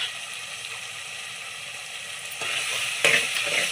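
Ginger paste being stirred into biryani masala in a pan, a steady low sizzle with a soft scraping stir that grows louder near the end, no voices.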